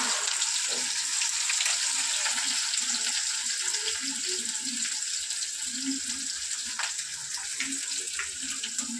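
An egg frying in a pan gives a steady, close hiss and sizzle that runs throughout, with faint crackles and no voices.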